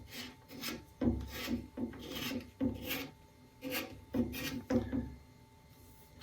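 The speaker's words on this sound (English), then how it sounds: "Always make sure you've got your cue chalked up enough." Close, dry rasping of chalk being scrubbed onto a pool cue tip, in several short bursts of rubbing separated by brief pauses, with no talking.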